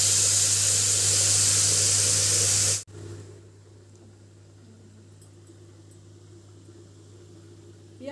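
Onion paste dropped into hot oil sets off a loud, dense sizzle that stops abruptly about three seconds in, leaving only a quiet background hum.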